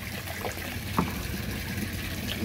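Tap water runs steadily for birds, a soft continuous trickle and splash heard fairly faintly against a backdrop of outdoor noise, with no voices over it.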